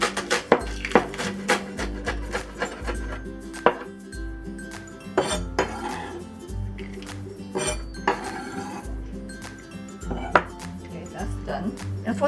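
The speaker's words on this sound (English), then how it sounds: "We'll also mince the green part." A knife chops green onion greens on a cutting board in quick irregular taps, with occasional light clinks of kitchenware, while preparing a Shanghai vegetarian stir-fried rice cake dish.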